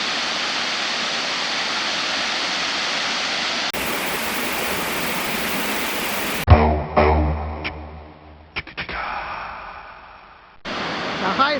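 Issaquena Falls, a waterfall named for a Creek maiden, roars as steady broadband rushing water, broken by abrupt cuts to quieter passages with scattered bumps and handling noise before the steady rush returns.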